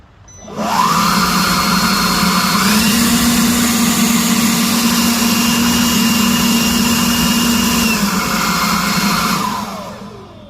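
An Alloyman 40V cordless leaf blower spins up from silence to a loud, steady whine, steps up in pitch after a couple of seconds when switched to high, then holds and winds down near the end.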